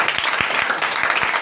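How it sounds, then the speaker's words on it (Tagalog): Church congregation clapping during a Sunday service of the UPC Daraga congregation, a steady dense wash of many hands applauding together at moderate loudness with no talk over it. "Malakas na palakpak para sa Panginoon."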